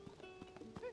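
Horse hooves clip-clopping in The Legend of Zelda: Tears of the Kingdom, quiet rhythmic steps over a brief second, with a faint neigh near the end.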